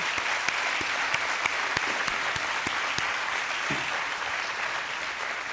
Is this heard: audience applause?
yes